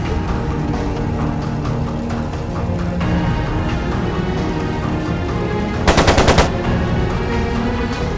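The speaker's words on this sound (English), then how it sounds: "It sounded like a machine gun." A short, loud burst of rapid machine gun fire in the role-playing game Trails of Cold Steel II. About half a dozen sharp shots crackle in quick succession over a steady bed of game music and ambience.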